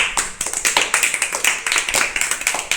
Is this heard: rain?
no